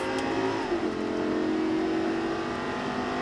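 A Lamborghini engine revs hard and accelerates steadily at full throttle, a loud continuous roar with rising pitch and no voices.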